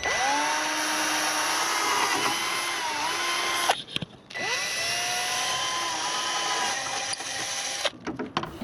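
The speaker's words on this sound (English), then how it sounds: "And now let's drill them out." A power drill bores mounting holes for a siren inside a police interceptor vehicle, a loud, sustained whine with pitch dips as the bit loads up, broken by a brief pause and short clattering stops near the end.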